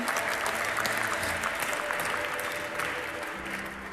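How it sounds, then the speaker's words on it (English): Audience applause at a European handball championship presentation event, dense continuous clapping from a large crowd, loud and steady with a slight fade at the end. "This is your applause."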